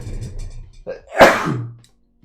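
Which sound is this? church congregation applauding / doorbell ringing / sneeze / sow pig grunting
sneeze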